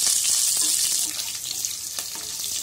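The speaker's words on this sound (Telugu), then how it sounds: "మనం తీసుకున్న అల్లం ముక్కలు వేసుకోవాలి. ఫ్రై చేసుకోవాలి." Ginger pieces fry in a pan for hot Pongal, giving a soft, continuous sizzle with a few light stirring scrapes.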